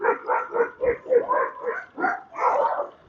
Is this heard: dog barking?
yes